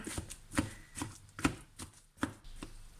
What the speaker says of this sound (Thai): คราวนี้ก็เป็น มันฝรั่ง นึ่งนะคะ ก็จะมายีให้มันเข้ากัน